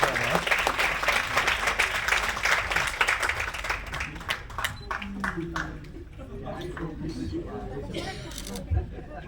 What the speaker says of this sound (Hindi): एक बार जोरदार तालियां राकेश सर के लिए